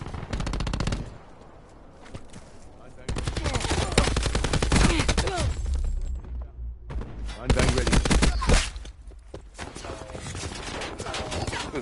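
A light machine gun in Call of Duty: Black Ops 4 fires long rapid bursts, near and loud, broken by short pauses, amid other gunfire in a multiplayer match.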